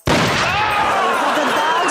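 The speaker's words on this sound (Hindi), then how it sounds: "अरे ये तो गोली चल गई।" A loud blast bursts out suddenly and rolls into a long, ringing decay that fills the whole moment.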